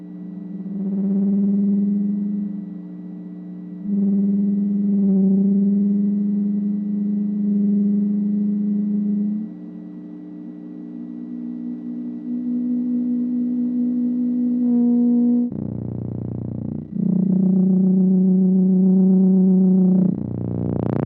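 Feedback tones from a no-input mixing board run through effects pedals, with sustained sine-like pitches that hold steady, shift upward and then drop to a lower droning tone, loud and without talk.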